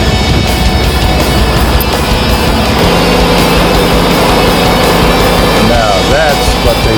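A repaired Nissan Maxima engine runs steadily at idle, loud and close, with a constant hum and a faint whine beneath it and voices talking over it.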